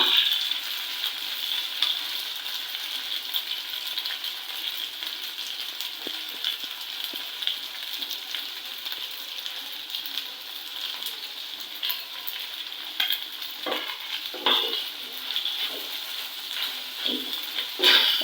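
Pasta being stirred with pasta spice mix in a pan, a steady soft sizzle with intermittent scraping and clinking of the spoon against the pan, close by.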